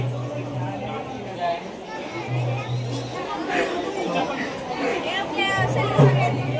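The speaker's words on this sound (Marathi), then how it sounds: "कधी पण या गर्दीच असते बाबा" A steady hubbub of many pilgrims talking fills the crowded Jejuri temple fort, with overlapping voices blending into a continuous mid-level babble.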